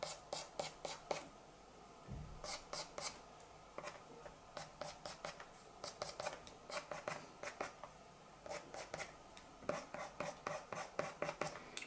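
Pastel pencil scratching across paper while drawing tabby cat fur, a close, steady series of short scraping strokes in quick rhythmic bursts with brief pauses between them.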